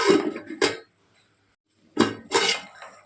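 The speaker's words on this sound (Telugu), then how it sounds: "ఒకసారి మూత పెట్టేసుకుందాం" A few sharp metallic clanks of a lid set onto a pot of mutton keema, two quick knocks, a pause, then two more, close and fairly loud.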